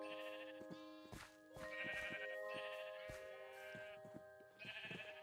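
Several Minecraft sheep bleat repeatedly in overlapping, wavering cries near a sheep pen and wool farm, steady and fairly close with brief gaps, over faint game ambience.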